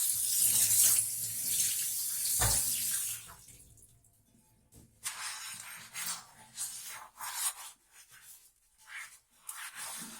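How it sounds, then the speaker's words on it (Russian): Running tap water rinses a metal pot with dish soap over a sink, a steady loud rush that cuts off about three seconds in, followed by quieter intermittent splashing and scrubbing. "обмою его под водой средством для мытья посуды"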